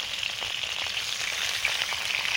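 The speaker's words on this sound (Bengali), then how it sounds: "এই লোহার কড়াতে মাছ এত ভালো ভাজা হয়" Shol fish (snakehead) sizzles steadily in a little oil in an iron wok, a dense, even crackle close by that never lets up, with no voices.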